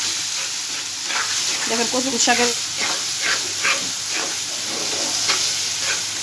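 Taro leaves (kochu shak) frying in a home kitchen pan, a steady broadband sizzle running throughout with faint stirring clinks, while a voice speaks briefly over it.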